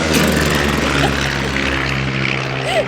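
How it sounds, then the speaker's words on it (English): A propeller airplane passes overhead near a sailing catamaran in the Bahamas, its loud steady engine drone filling the whole span with a slight swell and no talk over it. "Let that plane pass."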